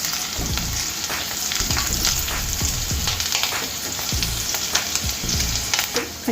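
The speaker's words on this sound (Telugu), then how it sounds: "కొంచెం బ్రౌన్ కలర్ వచ్చే వరకు వేయించుకోవాలి వెల్లుల్లి" Garlic frying in a pan for pandumirchi fried rice, a dense crackling sizzle with stirring scrapes throughout, close and steady.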